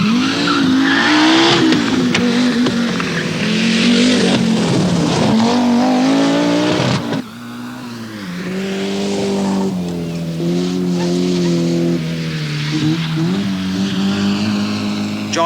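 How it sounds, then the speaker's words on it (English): An Audi Quattro rally car racing in the 1983 RAC Rally, engine roaring loud and close as it revs up and down through gear changes, with tyre squeal and a commentator talking over it. "British national champion Darrell Wiedner, in his fire-spitting Audi Quattro, is pacing himself carefully on his first major international outing."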